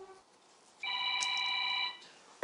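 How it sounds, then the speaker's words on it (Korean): A telephone rings indoors at home, a single electronic ring burst of moderate loudness in a quiet room, with no talking during the ring. "전화 오는데?"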